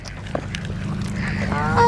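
Ducks on a pond give honking, goose-like calls that grow louder toward the end, with a low rumbling background throughout.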